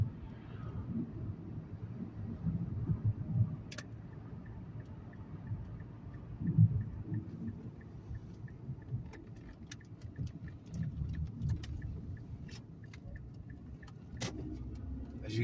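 Manual-transmission car coasting in neutral through a turn, a steady low engine and road rumble from inside the cabin with faint ticking of the turn signal throughout.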